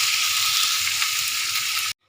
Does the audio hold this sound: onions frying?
yes